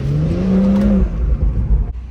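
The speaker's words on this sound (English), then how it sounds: "There's a way to make the spool sound louder." The turbo on a BMW M340i spools up with a rising whine over the engine's low rumble. The whine holds for about a second and then fades as the engine note drops away. No one speaks.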